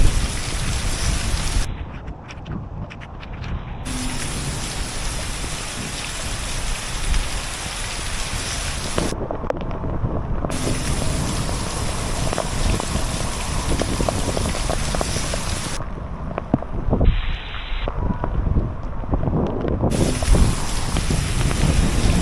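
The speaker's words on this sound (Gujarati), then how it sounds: "ધોધમાર વરસાદ પડી રહ્યો છે." Heavy thunderstorm rain pours down in Mendarda, Gujarat, a dense, loud, unbroken hiss of drops striking surfaces nearby, steady throughout.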